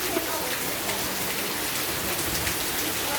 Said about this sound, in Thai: อากาศเย็นมาก แล้วก็ฝนเทลงมา